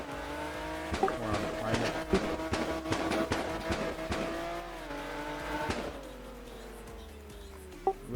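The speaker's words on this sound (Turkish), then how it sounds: "Araca belli bir komut yazdıktan sonra gitmeye başlayınca egzoz patlatıyor." A video game car's revving engine roars steadily with sharp pops and crackles bursting from the exhaust, a loud, continuous motor sound with a few distinct bangs.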